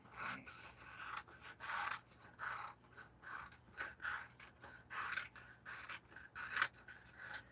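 Scissors snipping through a paper coloring page, quiet, close and regular, with repeated short cutting strokes and soft paper rustle, with no voices.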